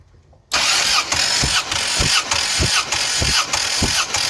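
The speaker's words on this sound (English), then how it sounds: "Okay, crank it again." A Mopar car engine cranks loudly and close by after a moment of quiet. The starter turns in a steady, rhythmic pulse, about two beats per second, with rough sputtering as the engine tries to fire.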